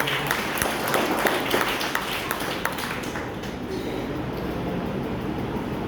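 An audience applauds to welcome a guest, a dense burst of clapping for about three seconds that then thins into a quieter hall murmur.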